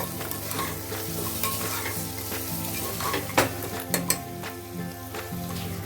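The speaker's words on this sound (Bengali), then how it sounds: "এখন অ্যাড করে দেবো টমেটো কুচোনো দিয়ে এটাও ভালোভাবে নাড়াচাড়া করব" Chopped tomato being stirred into frying soybean chunks and potato for veg soya pulao, a steady sizzle with scraping spoon strokes and a few sharp clinks against the pan.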